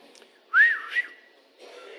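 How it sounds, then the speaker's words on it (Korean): A single short whistled note rising then falling, with a brief second chirp, clear and close against quiet background. "저녁에 휘파람을 불지 마라. 뱀을 부르는 소리다."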